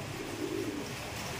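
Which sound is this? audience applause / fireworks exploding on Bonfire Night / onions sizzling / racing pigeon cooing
racing pigeon cooing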